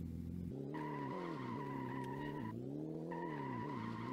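An arcade-style car in a Unity vehicle physics demo drives and skids around corners, a droning engine tone rising and falling under two long sustained tire squeals, loud and steady throughout.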